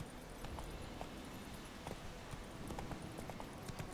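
Roach the horse gallops in The Witcher 3, a quiet, rapid run of hoofbeats drumming in steady rhythm over faint background noise.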